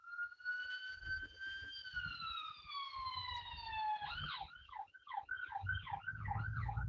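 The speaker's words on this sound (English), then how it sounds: "Ignoring the sirens that we hear constantly" A police siren sounds faintly from outside, a long rising-and-falling wail that switches to a rapid yelping pattern as a low city rumble continues underneath.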